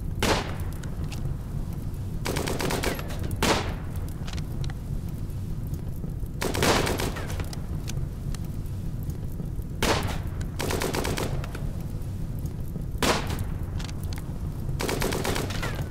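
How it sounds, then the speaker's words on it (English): Colonists in the RimWorld colony game shooting at a wall, heard as repeated loud bursts of gunfire spaced several seconds apart over a low, steady background rumble. "And destroy the wall with shooting!"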